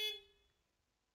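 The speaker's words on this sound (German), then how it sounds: "Ich kann hupen mit der Maustaste." A single short car horn honk in the video game Trüberbrook, triggered by a mouse click, loud at the start and fading quickly into quiet.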